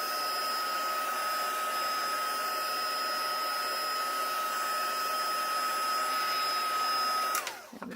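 A hair dryer blows steadily to dry an ink and oxide watercolour background, a constant whining whir with a high tonal hum that runs evenly, then cuts off abruptly near the end.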